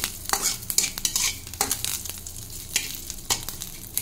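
Onions frying in oil with salt, stirred briskly in a pan: a continuous close sizzle with many quick scraping and clattering spoon strokes in an uneven rhythm, no voices.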